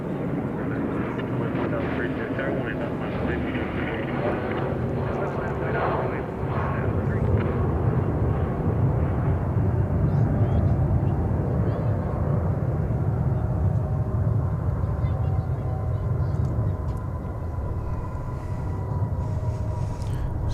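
British Airways Airbus A380 at DFW Airport, a continuous broad jet roar holding steady and swelling slightly midway, with voices talking over the engine noise.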